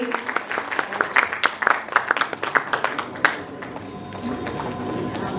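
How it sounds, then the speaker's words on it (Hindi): Audience applause at an award ceremony: scattered, uneven clapping from a crowd, close and fairly loud, thinning out toward the end into a murmuring room. "जोरदार तालियां प्लीज।"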